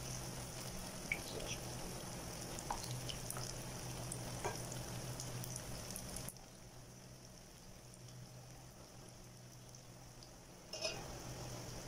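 A kangkong burger patty fries in hot oil, a steady close sizzle with faint pops that drops to a quieter hiss partway through, with no voices.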